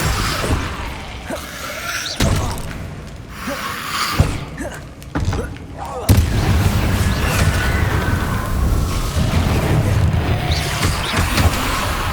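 A Confringo blasting spell in Hogwarts Legacy on hard mode, fought against dark wizards, lands in a series of sharp booms and crackling bursts, with rumbling impacts and game effects layered through the fight.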